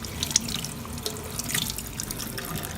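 Tap water runs steadily into a sink to soak laundry dryer balls, a close continuous splashing stream with small irregular drips and splashes.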